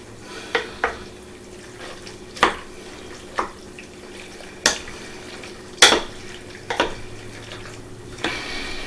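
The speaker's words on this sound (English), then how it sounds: "And we're going to start mixing." Spoon scraping and clinking in a bowl while mixing small curd cottage cheese filling for baked ziti, a series of irregular knocks and scrapes at close range with no talking.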